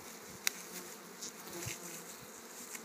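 Honey bees buzz at a hive while the keeper feeds the colonies solid food, a faint steady drone with a few brief louder passes of single insects close by.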